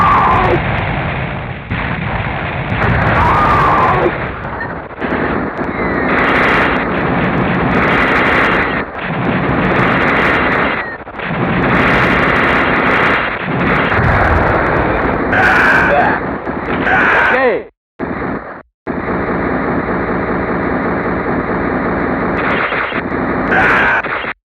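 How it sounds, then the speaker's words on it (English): Heavy machine gun in a PlayStation game firing in long loud sustained bursts, broken by brief pauses and abrupt dropouts, with rapid repeated cracks throughout. "Heavy machine gun."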